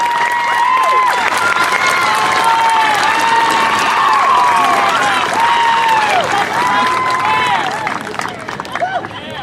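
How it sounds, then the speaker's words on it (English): A big round of applause rolls through a high school graduation ceremony, steady loud clapping from a large crowd mixed with cheering, whoops and whistles, easing off near the end. "Let's give them a big round of applause."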